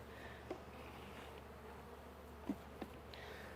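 Honeybees buzz around an open hive in a steady, quiet drone, with a few soft clicks and knocks.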